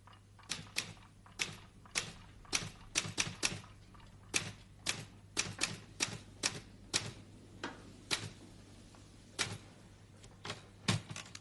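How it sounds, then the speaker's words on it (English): Typewriter keys struck close by in irregular bursts of sharp clacks, with short pauses between flurries of typing and no voices. "This machine makes a noise too. Do you know what it's called? It's called a typewriter."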